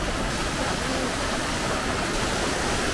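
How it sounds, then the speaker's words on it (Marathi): A powerful waterfall in Satara, India, roars loud and close, a dense unbroken rush of churning water with no pauses. "हा बघा पाण्याचा प्रवाह किती आहे"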